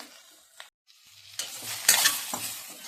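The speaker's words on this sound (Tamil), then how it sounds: "லேசாக எண்ணெயில் வறுத்து வச்சு எடுத்து வச்சுக்கலாம்" Ivy gourd pieces salted and shallow-fried in oil, giving a soft sizzle that swells into louder crackling bursts after a brief quiet gap, with a few utensil stirring scrapes.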